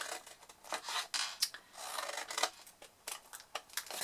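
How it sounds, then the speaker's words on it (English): Scissors snip through paper at the bottom corners of a handmade napkin box, cutting wedges in a quick, irregular series of close, crisp cuts and rustles with no talk. "the bottom corners here, we're simply going to cut, as we always do, our wedges"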